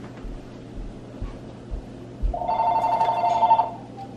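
A telephone rings with a steady electronic bell tone that starts partway through and holds for about a second and a half, fairly loud and close, after a few soft thumps in a quiet room.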